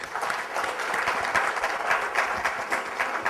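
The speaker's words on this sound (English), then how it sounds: "So can we clap for these guys?" Applause from a conference audience in Bangalore fills the room, steady and dense, with many hands clapping together for several seconds at a moderate distance.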